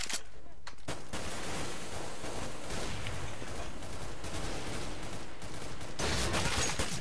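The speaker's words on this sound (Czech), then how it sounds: "někde střílí s augem" Dense, continuous AUG rifle fire in Counter-Strike: Global Offensive, rapid overlapping shots filling the whole stretch, loud and steady.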